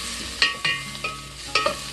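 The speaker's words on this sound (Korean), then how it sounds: "박이나 무가 투명해질 때까지 볶습니다." Gourd and radish stir-fried over moderate heat in a pan, a spatula scraping and tossing in several distinct strokes over a low sizzle, close by with no talking.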